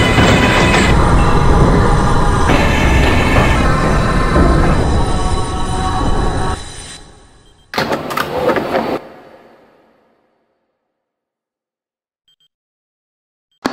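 A Manhattan-bound 6 subway train roars loudly into the station with rumbling wheels and screeching brakes, fading out, followed by a brief burst of rattling before silence.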